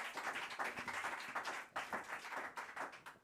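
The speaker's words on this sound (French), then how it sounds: "je pense qu'on peut lui faire un tonnerre d'applaudissements" An audience at an evening quartet concert claps steadily, a continuous patter of many hands with no voices over it.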